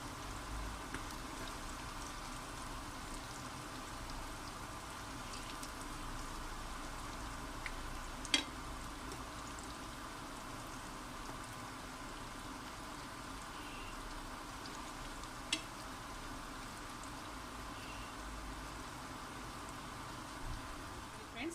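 Spring onion pakoda frying in a little oil in a pan gives a faint, steady crackling sizzle that runs throughout with a couple of sharper pops.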